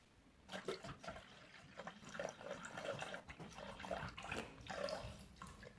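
Milk poured into a Thermomix bowl, a soft, quiet liquid splashing and trickling with uneven bursts, close up and alone with no talk.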